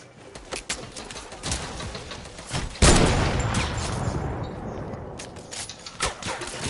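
Rapid gunfire bursts from the game Fortnite, a string of sharp cracks followed by a loud sustained barrage that tails off into scattered shots.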